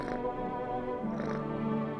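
A cat in a video game purrs while being petted, a close, steady, humming purr with a harmonic tone that holds for about two seconds with no talking over it.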